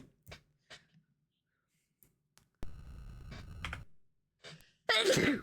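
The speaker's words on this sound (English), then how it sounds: "Sorry, didn't mean to sneeze in your ears." One loud, close sneeze bursts out near the end, following sparse beeps and electronic tones from the retro computer game Tex Murphy: Mean Streets.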